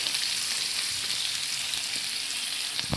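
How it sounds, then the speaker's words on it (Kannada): Onions fry in a pan with a steady, close, hissing sizzle that holds constant throughout, with a few faint stirring scrapes and no talking. "ಈರುಳ್ಳಿ ಒಂಚೂರು ಫ್ರೈ ಮಾಡ್ಕೊಳ್ಳೋಣ ಚೆನ್ನಾಗಿ."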